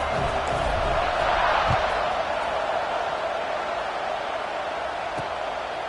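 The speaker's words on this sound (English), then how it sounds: "this crowd is feeling themselves after that last drive" Stadium crowd noise from a college football video game, NCAA 26, is a steady loud roar of cheering that holds throughout with no pauses, beneath and around a commentator's voice.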